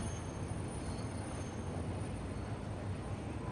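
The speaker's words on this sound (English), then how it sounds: "slowing down on the train is tough" A train in a video game slows down with a loud, steady rumbling roar and a faint high whine above it. The sound is continuous and has no talking.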